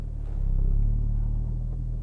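Porsche Boxster Spyder with an Akrapovic exhaust idling low and steady while reversing slowly into a home garage, a deep even engine rumble with a slight swell partway through.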